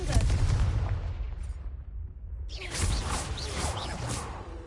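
A Confringo blasting spell goes off in Hogwarts Legacy on PS5: a loud, booming burst with a rumbling low tail, then a second crackling blast of debris and sparks.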